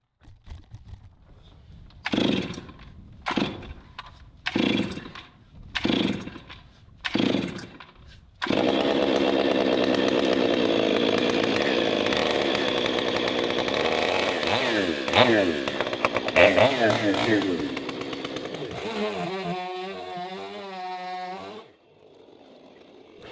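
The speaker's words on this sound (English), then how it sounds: "today I'm going to be cutting some firewood" Chainsaw cutting firewood from a large log: a few short revving bursts, then a long steady near cut under load that eases off toward the end as the engine settles to idle.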